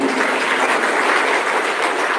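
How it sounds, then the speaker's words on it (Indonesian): A dense, continuous roar of applause from a large audience at an Indonesian ministerial speech event, loud and even throughout with no individual claps distinguishable. "Tepuk tangan untuk beliau sekali lagi."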